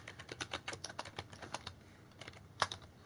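Quick bursts of keystrokes on a computer keyboard, close and fairly quiet, tapping in uneven clusters with a sharper clack near the end, no talking.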